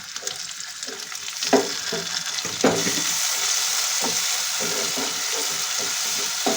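Tomatoes dropped into a pan of frying onions while cooking chaulai palak saag, a loud steady sizzle with a few sharp stirring scrapes and clatters near the start.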